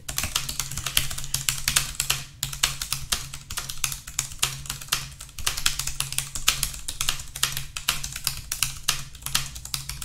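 Fast, continuous typing on a Cherry KW X ULP ultra-thin mechanical keyboard, with a dense run of crisp, close keystrokes over a faint low hum and no voices.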